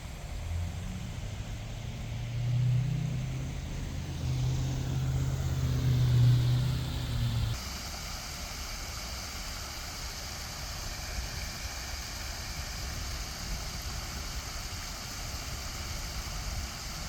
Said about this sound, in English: With the beautiful noise of the highway in the background, we do have a waterfall here in South Elgin.